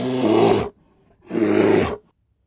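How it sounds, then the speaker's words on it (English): A polar bear roars twice, each call a loud, deep, rasping bellow lasting under a second, separated by a short silence and heard up close without any talking. "polar bear"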